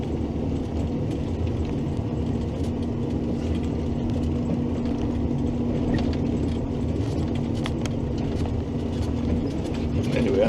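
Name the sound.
snow plow tractor machine running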